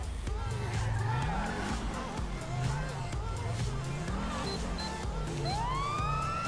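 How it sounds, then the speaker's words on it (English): A police car siren in the video game GTA V, a looping wail rising and falling over engine rumble and radio chatter, with a rising electronic whoop near the end and a person talking. "we have still got the old sirens"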